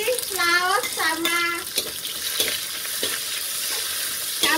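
Shallots, garlic, galangal and chili are stir-fried in hot oil, making a constant close sizzle with occasional spatula scrapes; a voice sounds briefly at the start.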